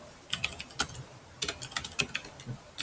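Fingers tapping on a computer keyboard, a quick irregular run of close, crisp key clicks with short pauses between bursts.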